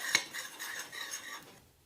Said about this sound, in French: Puis je vais venir mélanger à l'aide d'une cuillère.